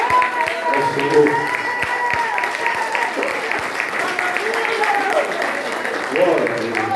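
A congregation at a church teaching service claps in praise to the Lord, loud steady applause mixed with voices and shouting throughout.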